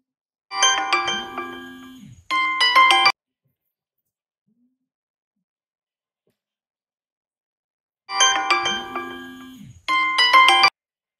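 A phone ringtone plays twice: a short melodic chime pattern, then silence for several seconds, then the same melody again, loud and clear.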